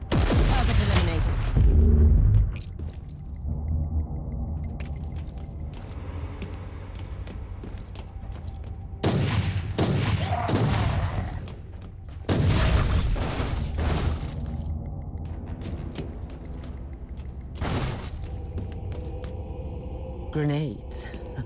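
Grenade explosions in Warhammer 40000: Inquisitor Martyr, several loud booming blasts spaced through the scene alongside footsteps and combat noise, with a voice speaking over parts of it.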